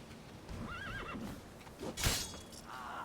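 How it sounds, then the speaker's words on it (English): Roach, Geralt's horse in the video game The Witcher 3, lets out a short, quivering whinny, followed by a sharp snort or thump and a fainter second neigh over steady game ambience. "Apparently, Roach isn't just one horse, though."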